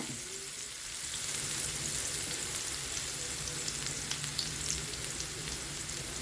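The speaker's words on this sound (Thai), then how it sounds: "ผัดกระเทียมให้หอมก่อน" Garlic stir-frying in a pan with enoki mushrooms, meatballs and minced pork, a steady close hiss of sizzling oil with faint scattered crackles, continuing evenly with no talking.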